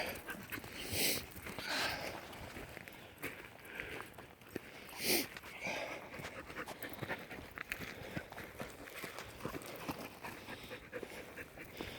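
A young hunting dog pants rapidly up close, with occasional soft whimpers and some shuffling movement, continuing steadily throughout.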